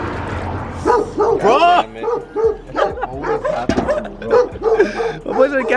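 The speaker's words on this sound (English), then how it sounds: "these loud ass dogs" Several dogs bark loudly and repeatedly near a gas station, with sharp yips and whining cries in quick irregular bursts, and someone speaks briefly over the barking.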